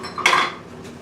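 A heated clay Romertopf pot is lifted out of an oven, giving a short clatter of ceramic and metal, close and brief, with quiet kitchen room tone around it.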